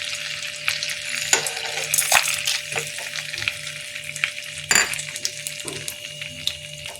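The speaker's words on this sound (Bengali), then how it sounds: "গোটা মশলাগুলো এবার কড়াইয়ের মধ্যে আমি দিয়ে দিচ্ছি।" Whole spices dropped into hot oil in a kadai crackle and sizzle loudly, with sharp bursts and clinks of a spoon against the pan over a continuous frying hiss, no voices.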